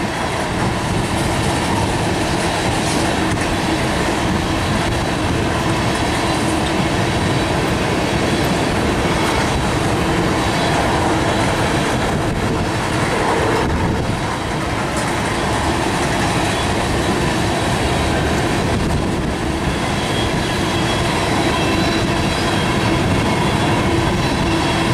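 A long freight train of white tanker cars passes close by, a steady loud rumble with clickety-clack of wheels over rail joints and occasional squeal, continuous throughout with no talk.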